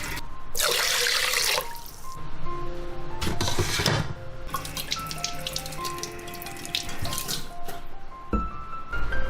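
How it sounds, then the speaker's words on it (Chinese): Clean water poured into a bowl of washed glutinous rice, two bowls' worth, giving a steady close splashing and gurgling with tap-like running water and a few clinks throughout. "洗干净的糯米里面加入2碗清水"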